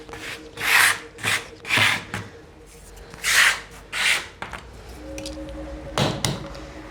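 Excess clay is scraped off a worktable in a pottery workshop, several short rough rasping strokes close up, followed by quieter handling noises and a faint tone.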